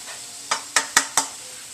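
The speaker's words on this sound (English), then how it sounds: "it's been probably about 10 minutes that the mushrooms have been cooking." Finely chopped mushrooms cooking in a pan, with a soft sizzle broken by four quick scraping stirs in a row, close and fairly quiet, with no voices.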